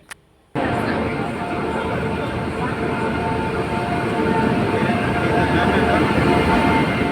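A train rumbles into a station close by, a loud, steady roar that starts abruptly and keeps going with a heavy low rumble.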